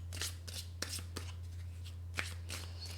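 A deck of oracle cards being shuffled in a quiet room, with soft papery riffles and a few sharper snaps, close and fairly faint over a steady low hum.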